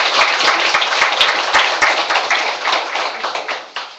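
A hall full of people claps steadily for a university president at a Korean neighborhood New Year gathering, with dense sustained applause that thins out toward the end.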